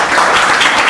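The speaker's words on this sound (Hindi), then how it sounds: "चलिए ताली।" A brief burst of group clapping in a mobile phone training class, dense and fairly loud, lasting under a second.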